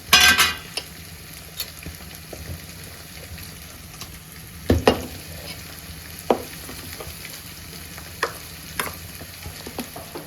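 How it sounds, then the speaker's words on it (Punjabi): Gram flour batter with peas is mixed in a bowl, with soft wet stirring and scattered sharp knocks of the spoon against the side, close and otherwise quiet. "ਆਪਾਂ ਇਹਨੂੰ ਬੇਸਨ ਨੂੰ ਚੰਗੀ ਤਰ੍ਹਾਂ ਰਲਾ ਲੈਣਾ"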